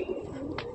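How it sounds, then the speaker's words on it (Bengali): Giribaj pigeons coo softly in a tree-filled area, a brief low murmuring coo with a faint background hum, quiet and close-ish, over in under a second. "পদ্মুদা এখান থেকেই পায়রা ওড়ায়, দেখুন গাছে ভরা এরিয়া, এখান থেকেই পায়রা সেটিং করে।"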